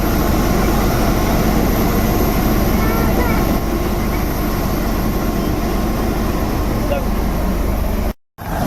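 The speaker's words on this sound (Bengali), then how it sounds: "প্লেনের তেল কেমনভাবে ভরে দেখে নাও এটা তেলের ট্যাঙ্ক তেল ভরছে দেখে নাও" An airplane being refueled on the ground at Kathmandu airport makes a loud, steady engine and machinery drone that runs throughout, then cuts out briefly near the end.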